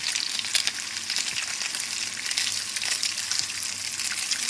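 Frozen bacon strips fry steadily in a pan, giving a dense, even sizzle and crackle close up that runs unbroken throughout with no voices.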